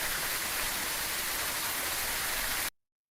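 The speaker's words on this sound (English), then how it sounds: "The sound of the rain's too loud too." Rain in a castle-building video game falls as a steady, loud hiss of dense drops, unbroken and without voices, then cuts off abruptly to silence near the end.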